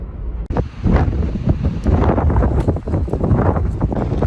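Strong wind gusts batter the microphone at an outdoor van campsite by a casino, a loud continuous rumbling buffet that starts abruptly and roars on without letup.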